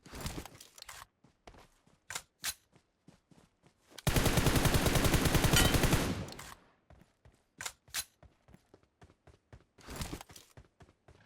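Rapid automatic gunfire in PUBG Mobile, a dense two-second burst in the middle, loud and close, with scattered single shots and footstep-like taps before and after.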